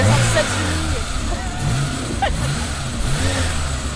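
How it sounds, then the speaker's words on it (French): A Peugeot 106 Sport car engine starts and revs outdoors, a rumbling low idle with rising and falling revs, while people talk over it nearby. "Il y a le bolide de Maxime qui démarre."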